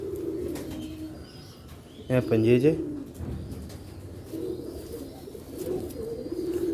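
Sialkoti rooftop pigeons coo steadily in the background as someone talks over them, with one brief louder stretch of sound partway through.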